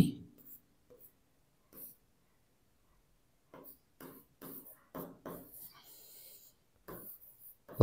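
Pen strokes on paper as someone writes out an English sentence, coming in short, faint scratching bursts separated by quiet gaps, with occasional soft speech.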